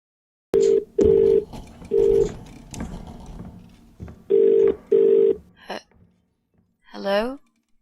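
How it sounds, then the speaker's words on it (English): Telephone ringing in repeated two-part bursts, loud and close, with brief pauses between rings and a voice speaking in the gaps. "Answer the phone."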